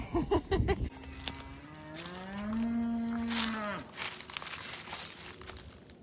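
A calf lets out one long, drawn-out moo close by, after some rustling, with faint crinkling noise continuing afterward.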